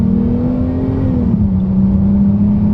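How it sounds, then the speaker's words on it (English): A 2018 Dodge Charger with its V6 engine revs up while driven through corners, a steady loud close drone with the pitch dipping slightly partway through. "Kind of bring up the RPMs."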